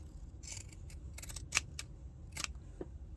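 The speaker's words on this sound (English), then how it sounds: "I'm going to take my little pinking shears and I'll just cut off" Pinking shears snip through excess apron fabric in a short run of crisp, close cuts, several quick bursts with pauses between, over a quiet room.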